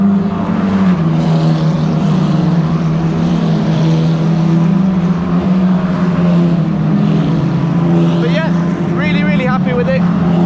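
Ferrari Challenge race cars at the Valencia circuit, heard as a loud, steady engine drone from close inside a car throughout, with a rising engine whine toward the end.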